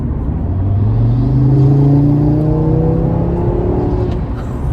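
2018 Audi RS3 engine pulling hard under throttle, a loud close rising drone that climbs steadily in pitch over a few seconds, then eases off near the end, with no talk.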